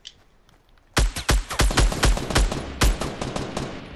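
Sniper rifle fire in the video game Fortnite, heard as a sudden burst of sharp, closely spaced shots running for about three seconds, loud and near, with no talking.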